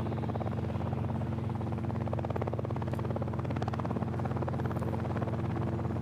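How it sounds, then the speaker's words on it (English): A Robinson R-22 helicopter takes off with a steady, loud rotor thump and a droning engine hum, the rapid blade chop pulsing continuously and unaccompanied by speech. "This is a Robinson R-22 helicopter, conventional helicopter, taking off, and it's pretty intrusive."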